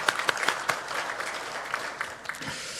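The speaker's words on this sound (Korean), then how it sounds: "우리 격려의 박수 한번 쳐주겠습니다." Congregation in a Korean Presbyterian Sunday worship service applauding a middle-school student's award, a brief round of scattered clapping at moderate level that thins out toward the end.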